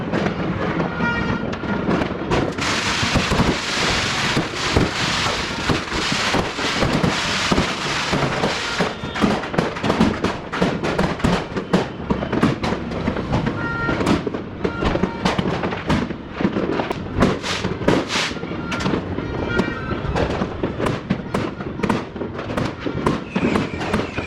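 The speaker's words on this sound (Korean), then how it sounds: "폭죽 쏘는 장면을 편집해서 줄였는데도 너무 길어서 3배속으로 한번 돌려봤습니다" Rapid, dense bursts of fireworks and firecrackers in the Philippines at night crackle and pop continuously, played at triple speed, loud and relentless, with sharp bangs layered over a busy roar.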